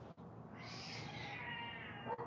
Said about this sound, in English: This is orange cat on orange cat violence.